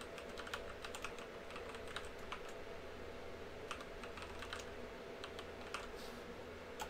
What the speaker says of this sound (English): 'll be creating an account for Bill Bowerman by typing in the first and last name.